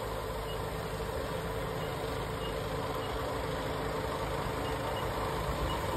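Tractor engine running steadily with a boom sprayer in a farm field, a continuous low diesel drone with broadband hiss, moderately close and unbroken for the whole stretch.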